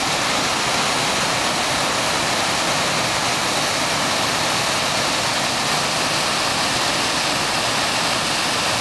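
A waterfall of about a 100-foot drop on the Middle Fork of the Kings River at Devils Punchbowl gives a loud, unbroken roar of rushing, crashing water that fills the whole stretch, with no voices.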